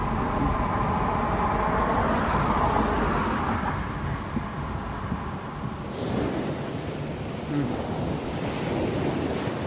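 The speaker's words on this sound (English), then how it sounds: "Atlantic Ocean." Atlantic Ocean surf washes in a continuous, dense roar mixed with gusting wind, staying loud throughout with a shift in texture partway through.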